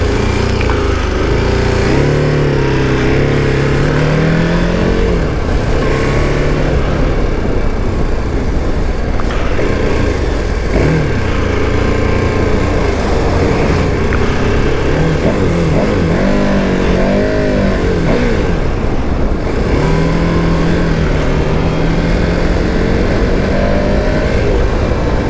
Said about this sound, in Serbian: Sad ćemo da ga provozamo malo i reći ću svoje utiske o motoru.